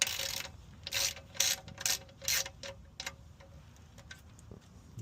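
Ratchet tightening the oil drain plug on an Infiniti G35, a series of quick close clicking bursts in uneven groups, followed by fainter scattered clicks.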